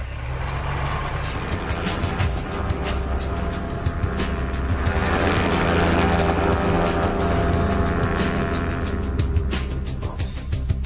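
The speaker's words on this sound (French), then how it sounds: "L'équipe décide donc de survoler la région à basse altitude." Ultralight aircraft flying low over a riverside area, its engine a steady droning buzz with a constant low hum, loud and close throughout, no voices.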